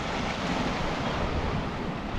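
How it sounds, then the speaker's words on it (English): Sea waves break steadily on a rocky Scottish shore below a castle, a dense, loud, continuous wash of surf with wind noise over the microphone and no talking. "Each wave just comes in at a different height almost at times."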